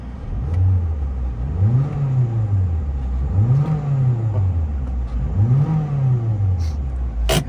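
A 2005 Mazda3 2.0 Sports car engine revved while parked, three rising and falling throttle blips over a steady close idle, loud and with no talking.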